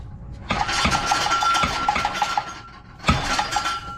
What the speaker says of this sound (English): I don't know what that tinging noise is up there.